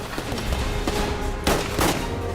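Gunfire in a war sequence from a film, with rapid overlapping shots and a couple of louder bursts over a dense, noisy background.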